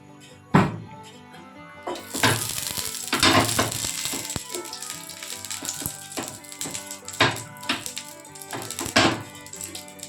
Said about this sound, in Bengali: এই যে ফ্রাইং প্যান বসিয়ে দিয়েছি, এখন এর মধ্যে দিয়ে দেব তেল।